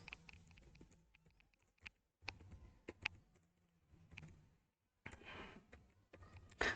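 Light, uneven keystrokes tap on a computer keyboard while text is entered in WordPad, short clusters of clicks separated by quiet pauses, close and fairly soft.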